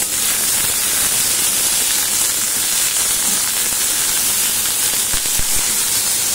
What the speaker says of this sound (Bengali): এবারে লাউয়ের খোসা ভাজাটা বসাবো